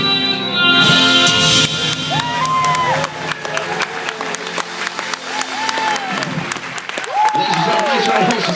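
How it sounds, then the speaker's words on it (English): An audience aboard a cruise ship applauds loudly after a singing contest performance, with some cheering and shouts, sustained clapping that carries on under a few brief melodic voice sounds. "nice round of applause for singer number 3"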